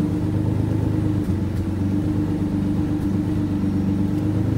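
The engine of a 240 car idles steadily in neutral, giving a continuous low rumble with a faint hum and a few small clicks, and no voices.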